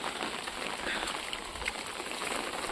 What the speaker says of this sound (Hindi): इधर का बहुत ज़्यादा बारिश हो रहा है।